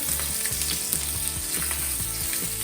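Pan-seared tuna steak sizzles loudly and steadily in a hot pan as it is flipped, a dense continuous frying hiss with faint rhythmic scraping and clinking from the utensil underneath.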